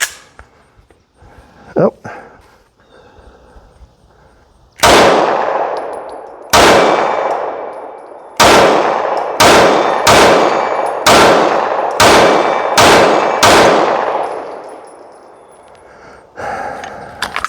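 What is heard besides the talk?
gunshots from a Steyr M9A2 pistol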